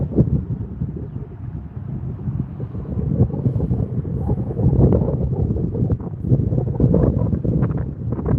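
Wind gusts buffet an outdoor microphone as a loud, low, rumbling roar that rises and falls continuously and swells toward the end.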